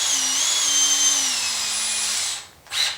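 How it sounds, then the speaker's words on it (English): A power drill whines steadily and close for about two seconds while driving a drill bit during a Roubo workbench support install, then stops and briefly spins up again. "I can just use my drill bit on the top"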